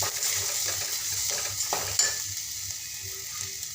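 Spices sizzle softly in a pan as they are stirred and fried, with quiet scraping strokes and one sharper knock against the pan, close and low in level.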